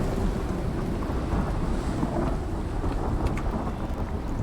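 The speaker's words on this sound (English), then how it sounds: "you shouldn't be inside during a thunderstorm because if the building gets struck, you'll catch on fire." A thunderstorm with steady rain in the survival video game Icarus, heard as a continuous low rumbling wash of rain and distant thunder, loud and unbroken, with no voices.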